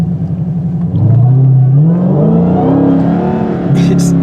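A powerful Dodge Hellcat engine accelerates loudly, its deep roar rising steadily in pitch and staying close throughout.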